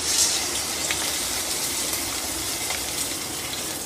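Chicken pieces coated in cornflour deep frying in oil for chilli chicken, a steady dense hiss and sizzle with no talk.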